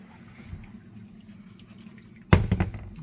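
Water splashes in suddenly near the end, poured over food in a tagine during home cooking after a quiet stretch, with a loud close gush and a few spattering drops.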